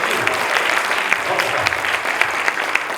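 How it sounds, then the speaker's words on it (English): An audience applauds a woman named Anika after she speaks on stage at a motivational seminar, a dense, steady clatter of many hands lasting about three seconds with a few sharper claps on top. "Give her a big round of applause"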